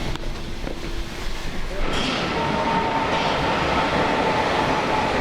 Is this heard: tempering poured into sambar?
no